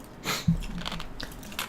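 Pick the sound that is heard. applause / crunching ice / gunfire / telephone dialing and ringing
crunching ice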